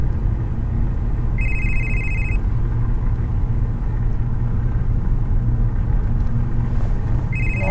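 A mobile phone rings in short electronic bursts, one near the start and another at the very end, over a steady low rumble like a moving car's cabin.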